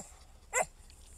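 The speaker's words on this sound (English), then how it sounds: "Excuse the dog." A single short dog bark, fairly close and loud, stands out against a quiet indoor background with no talking.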